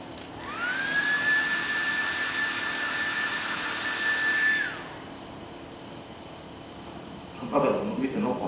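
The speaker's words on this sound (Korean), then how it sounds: "항상 드라이기로 말리고 나서" A hair dryer whirs on for about four seconds with a steady high whine and airy rush, then switches off, leaving quiet room tone before a brief rustle near the end.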